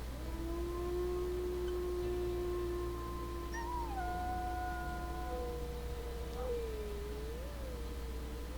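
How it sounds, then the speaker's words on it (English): A wolf in the video game WolfQuest gives one long, sustained howl that rises and bends in pitch over several seconds, clear and fairly soft against a steady background hum, with no talk. "And maybe a howl."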